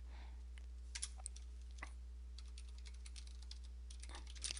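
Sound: typing a password on a computer keyboard

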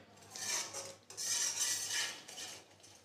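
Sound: stirring turmeric into green sandwich filling in a pan

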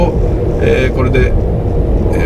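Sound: Subaru car with EyeSight driving on the expressway

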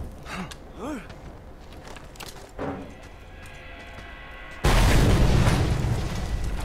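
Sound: explosion in video game Mad Max

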